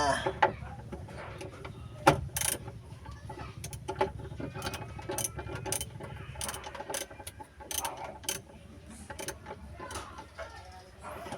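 Ratchet tightening a Suzuki F6A ignition coil during an engine repair, rapid metallic clicking in bursts up close, with some faint speech and shop noise around it.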